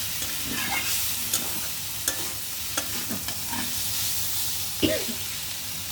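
Water lily stems and shrimp sizzling in a pan near the end of cooking, a steady broadband frying hiss with occasional spatula scrapes and stirs, fairly close and continuous.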